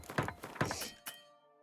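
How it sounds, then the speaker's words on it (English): Short clanking thunks of weapon repair in The Witcher 3 on Death March difficulty, two or three quick metallic knocks followed by a ringing tail that fades out. "Let me repair the weapons that we have."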